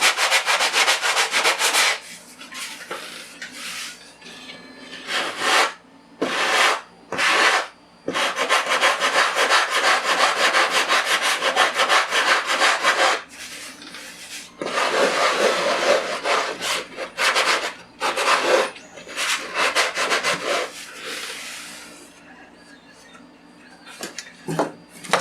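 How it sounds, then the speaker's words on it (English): Foam and wood being cut and sanded on the leading edge of an FT Master Series F6F Hellcat model plane, with bursts of rasping, scraping strokes separated by short pauses, close and fairly loud throughout. "You just chop it off and sand it down."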